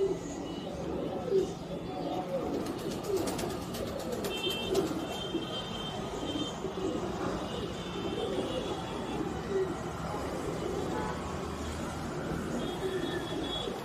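A pigeon coos softly in repeated low calls amid a loft of pigeons, faint and steady under a background hum, with someone talking nearby.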